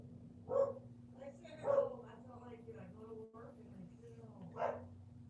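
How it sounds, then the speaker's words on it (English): Household dogs bark in another room, a few short muffled yips and barks spaced apart, faint behind a steady hum and someone talking nearby. "the dogs bark"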